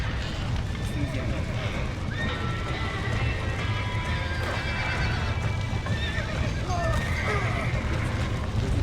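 Horses in the Red Dead Redemption video game neigh and whinny repeatedly over continuous clip-clopping hooves and a dense, busy game soundscape.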